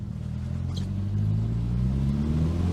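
A Nissan 200SX engine revs and pulls away on a drive, a loud, steady rumbling drone that climbs slightly in pitch and grows a little louder midway through, with no voices.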